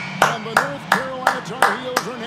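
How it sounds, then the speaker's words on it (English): Sharp hand claps ring out in a steady rhythm, roughly six claps in about two seconds, over a voice and game sound from an NBA 2K23 session. "Let's clap it up."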